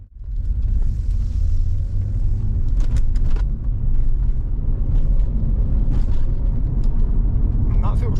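A Cadillac BLS 2.8 V6 turbo drives on new Bridgestone tyres, heard from inside the cabin as a loud, steady low rumble of road and engine noise that runs unbroken throughout.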